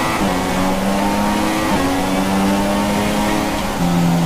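An F1 car in the video game F1 2016 drops through the gears into a double left-hander on the Shanghai circuit, its engine a loud, continuous buzzing drone with slight pitch steps as it shifts.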